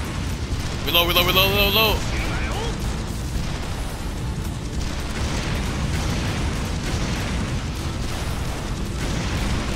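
Rocket explosions in the video game Yakuza 0, a dense rumbling blast-heavy roar that fills the clip, with a brief voice cutting in near the start.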